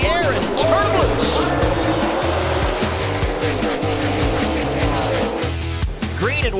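Race car engines roar at ISM Raceway in Phoenix during a 200-lap sprint, a dense continuous drone with cars sweeping past, while an announcer talks over it.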